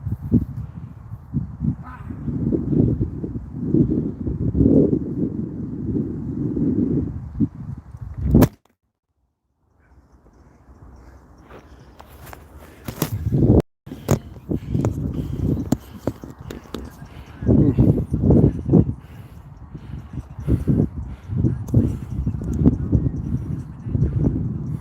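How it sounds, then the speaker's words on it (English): Gusty wind blowing outdoors at an exercise spot, a rough broadband roar that buffets a nearby microphone throughout, broken by a short quiet gap and a few sharp knocks. "It's windy here."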